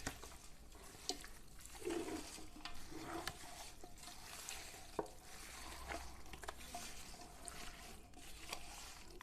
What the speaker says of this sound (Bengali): আমার এখানে 2 কেজি চিকেন আছে, সেরকম পরিমাণে আমি সব মশলা দিয়েছি। এবারে এটাকে আমি মাখিয়ে নেব।